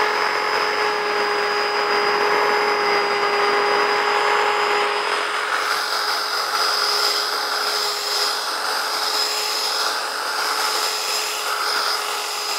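A sander whines steadily as it polishes marble or granite wetted with a little water, a high, continuous grinding tone that shifts slightly in pitch partway through.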